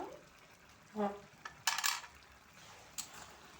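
A homemade spice mix stirred into egg and yardlong beans in a pan, with a soft scrape, a brief sizzle and a couple of sharp metallic clinks of a spoon against the pan, fairly quiet.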